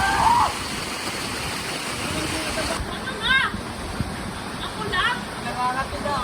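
A person jumps into cold water outdoors with friends, and a splash sounds over steady rushing water, followed by more churning and splashing while voices chatter and call out in the background.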